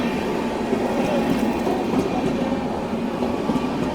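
The Tatanagar train rolls slowly through Koratti Angadi station, giving a steady, continuous rumble of wheels and carriages at close range, with faint clicks over it and no talk.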